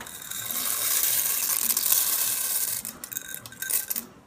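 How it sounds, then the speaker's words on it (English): Dry elbow macaroni poured into a pot of boiling water with taco seasoning and tomato for chili mac, a steady rustling, clattering pour of pasta that tapers into a few scattered taps as the last pieces are shaken in. "you're going to add your 2 cups of elbow macaroni"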